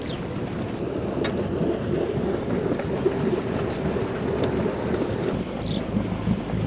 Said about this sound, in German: Motoren laufen.